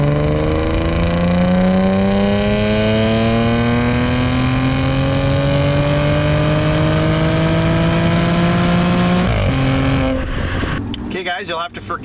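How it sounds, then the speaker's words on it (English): Car engine climbs steadily in a third-gear pull on Shell 91 zero-ethanol fuel, a loud rising drone that builds for about ten seconds before cutting off abruptly, followed by brief clattering and rattle. "do a third gear pull now, and see what his baseline is on this Shell 91 fuel with zero ethanol"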